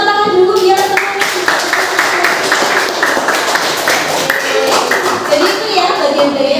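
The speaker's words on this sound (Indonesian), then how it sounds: "Kita beri tepuk tangan dulu biar semuanya." Students clap their hands together in a classroom, a brisk, loud burst of many hands with sharp rhythmic claps over voices in the room.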